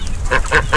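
A goose or duck among backyard fowl honks twice, loud and close, in short nasal calls over a low rumble of background noise.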